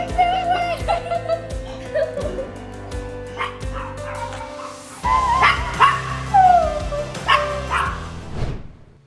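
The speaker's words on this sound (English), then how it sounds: "The familiar scent made the dog excited." An excited dog at a soldier's homecoming barks in rapid, loud bursts with yips and whimpering whines, close by, while people laugh and talk around it.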